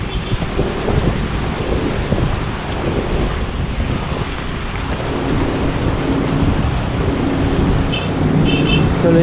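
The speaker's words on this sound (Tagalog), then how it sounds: "Lakas na talaga ng ulan." Heavy rain with thunder pounds down during a group bike ride, a dense, loud, continuous roar close to the microphone, mixed with wind buffeting and low rumbling that runs unbroken throughout.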